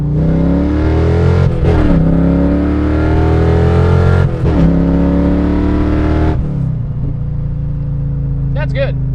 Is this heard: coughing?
no